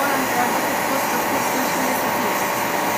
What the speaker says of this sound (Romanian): să dăm drumul la aspirator